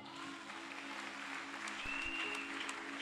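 A church congregation applauds in a dense, continuous wash of clapping that fills the room, steady and moderately loud, with faint voices mixed in.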